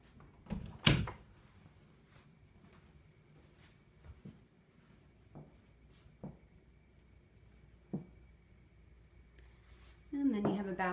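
Closet doors in a house open and close, giving a few soft thuds and knocks spread across a quiet room, with a person talking near the end.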